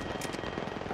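Gunfire in Apex Legends hammers out in a quick, continuous string of close shots lasting about a second.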